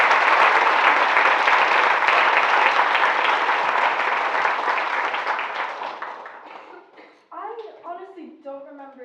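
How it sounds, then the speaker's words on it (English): Loud, sustained applause from a commencement audience at a Montessori school ceremony, dense clapping that fades over several seconds before a voice begins speaking. "Now I would like everyone to give a big round of applause to Caroline Baltazar."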